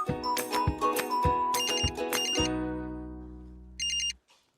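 A mobile phone ringtone plays nearby as an incoming call rings: a bright, repeating melodic chime for a few seconds that breaks off, followed by one short final burst, with no talk.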